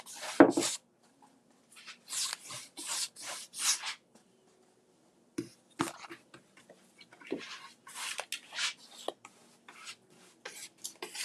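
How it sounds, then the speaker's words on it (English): Short hissing bursts of clear coat spray over a painted wooden Noel sign, coming in repeated close puffs separated by brief silences. "Now I'm going to give it some clear coat."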